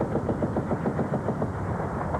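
Gunfire from a retreating Iraqi army rattles in rapid repeated bursts over a dense rumbling din, distant and muffled, with no talk.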